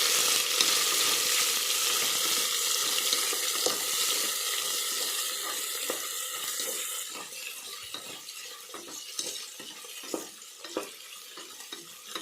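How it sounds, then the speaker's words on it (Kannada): Green chilies and tomatoes frying in a pan for vegetable pulao, a loud bright sizzle that eases midway into quieter crackling with scattered light clinks of a utensil. "ಹಸಿಮೆಣಸಿನ್ಕಾಯಿ ಮತ್ತು ಟೊಮಾಟೊ 2 ಹಾಕಿ ಸ್ವಲ್ಪ ಫ್ರೈ."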